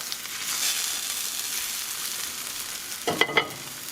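Food frying in a pan in a kitchen with a taqueria smell, crisping up: steady broadband sizzle throughout, then a few louder scraping clatters near the end, likely a spatula working the pan.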